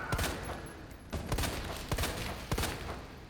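Rapid gunshots from Resident Evil 2 Remake, a burst of sharp cracks at a steady rhythm, loud and close with no talking over them.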